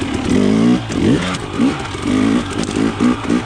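A KTM 300 XC TPI two-stroke dirt bike with a low-compression head insert, ridden off-road in second and third gear, its close, loud engine surging and dropping in short bursts of throttle.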